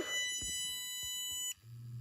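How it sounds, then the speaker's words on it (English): A bark collar beeps and vibrates: a steady electronic tone with high harmonics sounds for about a second and a half, broken by faint thumps, then cuts off into a low rumbling buzz. "So it vibrated and it beeped after I made a little bark noise."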